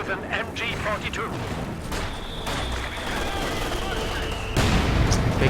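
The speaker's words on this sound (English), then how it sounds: "Big mortar hit right there, bringing that squad low." Mortar impact and rattling small-arms and machine-gun fire from a World War II strategy video game, continuous overlapping shots and a sharp blast near the end, with a commentator talking over the battle.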